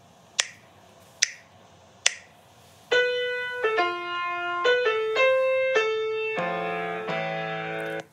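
Three sharp metronome-like clicks lead into playback of a recorded piano performance from a sight-reading app: a string of clear, sustained notes and chords, moderately loud, with no voice.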